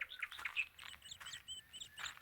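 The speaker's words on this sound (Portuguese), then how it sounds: "para ver se eu consigo mostrar para vocês aqui a revoada de pássaros" A flock of birds chirps and tweets at a wild campsite, overlapping quick calls that come in a steady, fairly close chatter with no voices.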